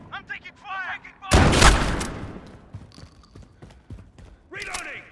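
Enemy gunfire in Modern Warfare, a sudden loud burst of shots and impacts in the middle of the clip, surrounded by chirpy electronic game effects and background noise, with a voice talking over it.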